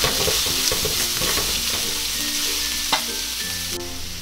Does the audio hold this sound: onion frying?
yes